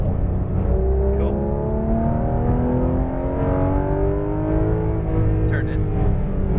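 A race car accelerates on a track under light then heavier throttle, its engine note climbing steadily and loud throughout, with a voice talking over it.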